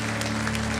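Brief burst of audience applause at the Kamehameha Song Contest pre-show, a steady, dense patter of clapping over a low hum.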